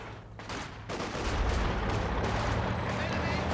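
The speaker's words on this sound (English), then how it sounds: "I've got the heavy mortar coming in for Sumi" Heavy mortar shells and gunfire crash through a Company of Heroes 2 match, a dense, continuous barrage of booms and crackles that builds louder after the first second and keeps rolling with little pause.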